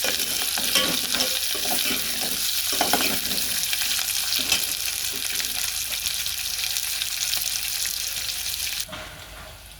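Dry upma rava being stirred in a frying pan, a steady close scraping hiss with rhythmic spoon strokes, then a sudden drop to quieter sizzle near the end.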